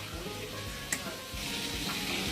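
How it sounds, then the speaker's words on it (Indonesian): Fish frying in a pan gives a steady, soft sizzle throughout, with one small tap partway through. "Sambil goreng ikan, kita kasih masak sambal dulu."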